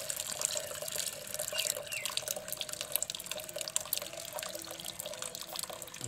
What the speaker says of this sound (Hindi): अभी ये इसके ऊपर हल्का सा पानी डाल देना ताकि इसके में से जो बॉयल वाला पानी है वो सारा निकल जाए।